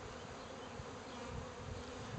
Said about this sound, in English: What I'm going to do is shake the bees in this pan that I have.